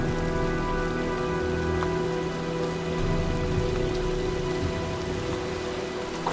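Steady rain pouring on surfaces in the video game Heavy Rain, a dense continuous hiss with a faint low rumble underneath, loud and even throughout, no speech.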